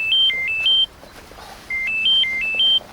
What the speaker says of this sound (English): Just then, Simon's phone rang.